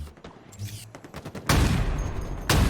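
Bursts of gunfire in a first-person shooter video game, with a loud, sustained volley of shots and a second heavy burst near the end after quieter scattered sounds.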